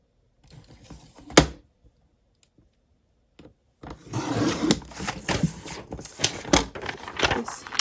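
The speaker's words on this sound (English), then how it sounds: "So I'm just going to trim a tiny bit more." Scissors trimming planner paper, a few crisp snips and one sharp click early, then a louder stretch of rustling paper and cutting sounds close up.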